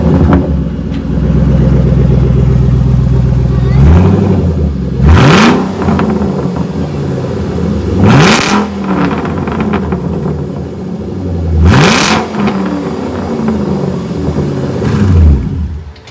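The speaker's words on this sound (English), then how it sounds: "here's a start with no exhaust" A Shelby GT500 convertible V8 with its mufflers removed runs at a loud, raw idle, then fires off four sharp revs spaced a few seconds apart, each one climbing and falling back to the rumbling idle.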